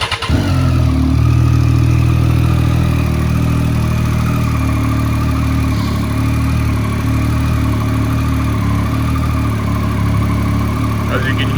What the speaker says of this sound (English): what the Triumph sounds like when it's started